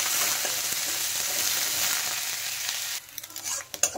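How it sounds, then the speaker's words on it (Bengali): Chopped onion frying in oil in a pan, a loud, steady sizzle up close that drops off sharply near the end, followed by a few scraping stirs. "তেলের মধ্যে আমি দিয়ে দিচ্ছি কুচনো পেঁয়াজ। এখানে একটা বড় সাইজের পেঁয়াজ দিয়েছি, আর পেঁয়াজগুলো কিন্তু ভালো করে ভেজে নিতে হবে প্রথমে।"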